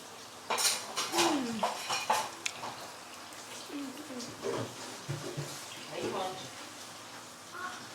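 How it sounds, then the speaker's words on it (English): A metal spoon scrapes and clinks against a cooking pot while Nigerian jollof rice is dished out, with several sharp clatters early on and softer scraping later, mixed with faint speech in the background. "So we'll be dishing our rice right now"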